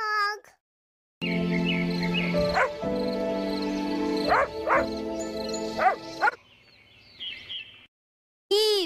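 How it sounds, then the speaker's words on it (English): A dog barks several times in quick yips and woofs over a sustained musical tone, then gives a few whimpery calls before a final rising yelp, all loud and close. "D for dog"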